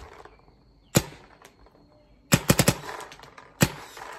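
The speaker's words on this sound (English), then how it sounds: "Smooth shooting gun." Gun being fired and chronographed, giving a few sharp, loud shots: a single report, then a quick cluster of four, then one more, over a faint background hum.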